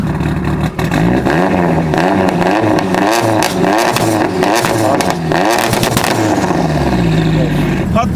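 A modified Mitsubishi Lancer Evolution VIII engine revs hard and close, rising and falling in repeated bursts with clattering, popping exhaust over a steady idle, while people talk over it.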